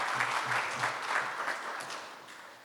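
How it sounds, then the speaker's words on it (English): Audience applause at a business forum, a steady crowd of clapping hands held at an even level for a few seconds and easing off slightly toward the end, with a faint hint of voice underneath. "I think they deserve another round of applause"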